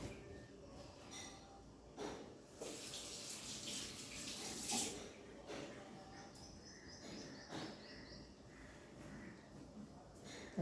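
Whole tiger prawns are rinsed under a running kitchen tap, a steady stream of water with splashes and bursts of hissing spray as hands move them, faint chirping insects in the background.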